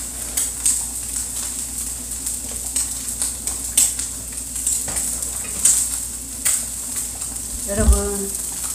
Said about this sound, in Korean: 계란 후라이 김치라면 보글보글 끓고 있습니다.